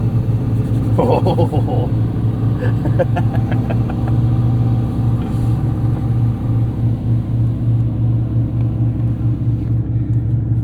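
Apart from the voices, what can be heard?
Porsche 718 Cayman GT4 RS engine starting with key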